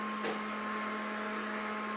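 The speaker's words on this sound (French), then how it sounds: "Jarvis, arrête l'aspirateur" A household vacuum cleaner switched on by voice command runs as a steady, even drone with a faint whine, continuous and unchanging from start to finish, with no voices.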